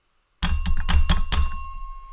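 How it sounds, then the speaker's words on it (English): A king rings his bell in a children's story about a king with stinky feet: five quick, loud, bright strikes after a moment of silence, then a clear ringing tone that lingers and fades. "the king rang his bell"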